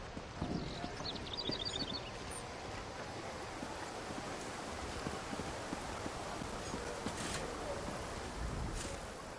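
Horse hooves clip-clop in Elder Scrolls Online, a steady walking rhythm over a windy, watery ambient bed with a brief high chime early on.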